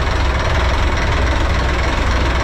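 A heavy Isuzu 6HH1 diesel engine on a boat idles close by, a loud, steady knocking rumble with no change in pace.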